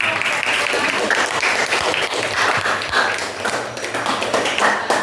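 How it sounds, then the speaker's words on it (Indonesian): A classroom of students claps steadily for a group that has just presented, a dense, continuous patter of many hands at close range that holds for about five seconds without a break. "Tepuk tangan dulu untuk penampilan."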